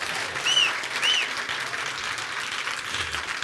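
Crowd applause at a crypto card company's global launch event, a steady wash of clapping from an audience filling the room, swelling slightly near the start and holding fairly even.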